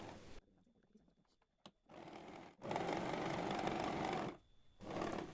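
A sewing machine stitches a shawl strip in short bursts: a brief whir, then a longer steady run, a pause, and another short run, all close and fairly quiet.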